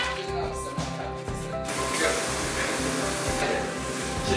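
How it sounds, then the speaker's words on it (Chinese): Butter sizzles and spits in a frying pan as it is stirred, a bright steady hiss alongside a rhythmic low thumping beat of background music throughout, with a denser sizzle burst in the second half. "翻动着锅里的奶油"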